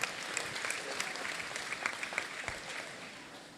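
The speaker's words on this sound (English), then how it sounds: "One more round of applause for Estelle and Jocelyn." A crowd in a school gym at a high school basketball game claps steadily for a few seconds, fairly faint and distant, tapering off at the end.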